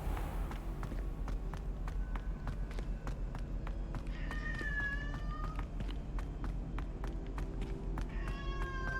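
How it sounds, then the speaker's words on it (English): A house cat meows a few times in the background, faint and intermittent, over a steady run of tapping footsteps and ambient sound from a fantasy video game. "My cat meowing in the background."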